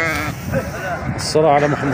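Turkish sheep bleat at a livestock market, a couple of clear bleats rising near the end while someone talks over them close by.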